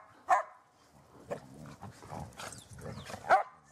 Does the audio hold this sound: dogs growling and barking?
yes